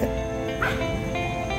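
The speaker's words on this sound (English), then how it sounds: "Barks at the wall." An indoor dog gives a short yip and whimpering bark at a wall, one brief call over a steady background hum.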